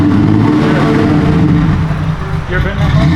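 A newly delivered supercar's engine fires and settles into a loud, steady idle up close, with a continuous heavy rumble filling the space.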